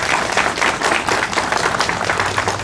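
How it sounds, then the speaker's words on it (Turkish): A crowd of people claps steadily and loudly at an earthquake drill event held in a neighbourhood in Turkey. The applause is continuous and full throughout, with no talking over it. "alkışlamasını rica ediyorum"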